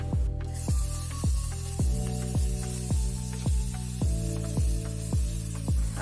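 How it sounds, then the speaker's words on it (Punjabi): Onions frying in a pan for a Punjabi-style rajma curry give a steady, close hiss that runs the whole time beneath a series of evenly spaced ringing tones. "ਆ ਦੇਖੋ ਪਿਆਜ਼ ਸਾਡਾ ਭੁੱਜ ਗਿਆ।"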